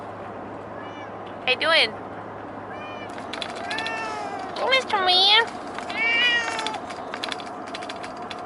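Pet cats meow a few times in a traveling couple's RV at a campsite, short close calls scattered between a person's friendly chatter to the animals.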